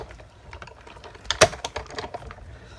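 A die-cutting machine runs framelits dies through for a repeat pass, giving a quick run of close, crisp clicks and ratcheting taps with one louder snap midway.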